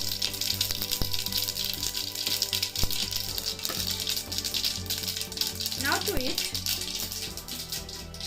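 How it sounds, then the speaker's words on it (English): Mustard and fenugreek seeds sizzle and splutter in hot oil for South Indian tomato rasam, a steady dense frying hiss with small crackling pops that holds up close the whole time, with brief stirring rattles near the end. "Mustard is spluttering here."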